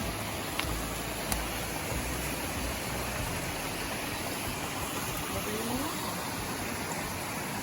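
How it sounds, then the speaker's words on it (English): A small waterfall on a hiking trail at Lick Falls in Grayson Lake State Park gives a steady, even rush of falling water. It sounds close and constant, with no talk over it. "This time it's an actual waterfall."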